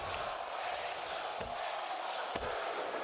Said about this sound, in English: This crowd in Atlanta coming unglued for this match.